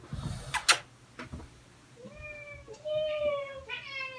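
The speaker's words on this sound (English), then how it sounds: "Come here, cat." A house cat meows indoors, several rising, drawn-out calls in the second half, with fainter thumps and voices earlier on.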